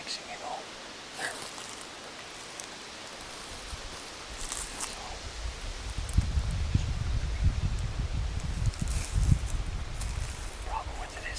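Wind gusts through trees during an Idaho archery elk hunt, a rushing, rustling roar that grows louder and more turbulent in the second half, with faint voices talking now and then.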